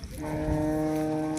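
Cattle bellow at a Gadag livestock market where working bullocks are brought for sale: one long, loud, close moo with a steady droning tone that holds for over a second, with no talking.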